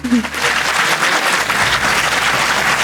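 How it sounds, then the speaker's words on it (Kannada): An audience at a school event breaks into loud, sustained applause, dense and steady clapping from many hands filling the whole stretch without pause. "ಬರಲಿ ಜೋರಾಗಿ ಚಪ್ಪಾಳೆ."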